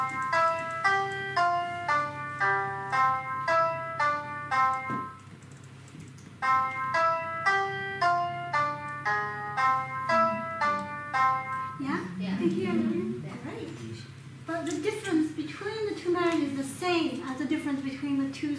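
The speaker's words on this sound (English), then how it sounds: "you can hear whether you can hear the difference between the two melodies here" Two short melodies of plucked, music-box-like notes, identical except for a one-semitone difference, play one after the other at moderate volume, with a voice briefly audible near the end.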